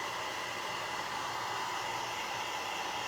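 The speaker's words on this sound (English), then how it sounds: "when you're drying this with your heat tool because you don't want to melt that glue" A craft heat tool blows a steady, even airy whir like a hair dryer while drying glue on a shabby chic home decor project, constant and close with no talking.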